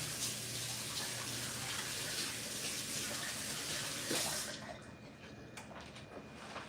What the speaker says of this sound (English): Wash my hands real good.